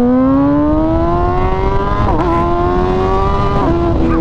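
An MV Agusta Brutale 1000 RR motorcycle on cold tires accelerating hard at half to three-quarter throttle, a loud, close engine whine rising steadily in pitch with brief dips at gear shifts.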